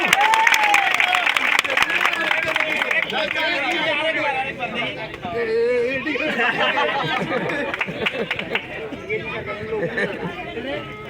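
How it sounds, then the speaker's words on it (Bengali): Applause for teachers at a school award ceremony: scattered clapping rises from the audience amid loud crowd chatter, with voices talking throughout. "জোরে একটা হাততালি স্যারের জন্য।"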